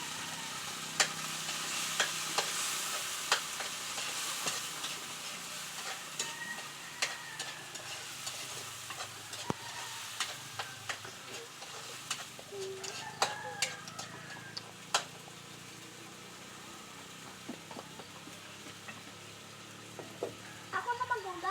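Food fries and spatters in a pan over a wood fire outdoors, a continuous soft sizzle dotted with sharp pops and ticks of stirring and splattering, with occasional faint voices in the background.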